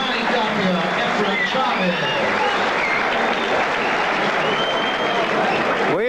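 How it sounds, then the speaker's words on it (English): A boxing crowd at a four-round bout between Johnny Tapia and Efren Chavez stands and applauds, a dense, loud roar of clapping and cheering that holds steady throughout. "people are standing up, applauding"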